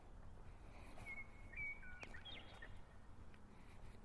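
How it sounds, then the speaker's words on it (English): A bird sings from a tree in the middle of a field in the morning, a few faint, thin whistled notes over a low background rumble of distant traffic. "this bird out here in the tree in the middle of the field has got a pretty song waking me up this morning"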